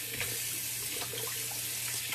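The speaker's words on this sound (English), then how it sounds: "All right, cold water rinse." A bathroom faucet runs steadily for a cold water rinse after wet shaving, a continuous hissing splash into the sink with a low hum beneath, close and even.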